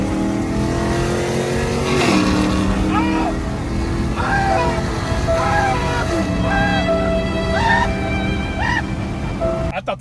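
A Chrysler 300 with a swapped-in Hellcat engine runs loud and close, its pitch rising and falling over several blips of the throttle amid the steady running.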